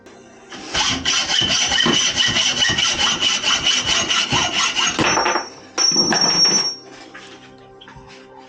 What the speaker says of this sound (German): jetzt nehme ich die Eisensäge und werde das einmal mit der Eisensäge zusägen